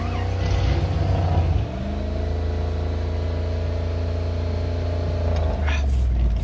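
A car engine drones steadily in a cyberpunk video game, holding a constant low hum with a brief dip partway through while the vehicle drives along.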